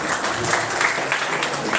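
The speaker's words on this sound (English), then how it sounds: "So I'd like all of you to give a big round of applause for them." Applause from the audience at a Rotaract Club of Koramangala gathering for the club's team, a steady wash of many clapping hands, moderately loud and continuous, with no clear talk on top.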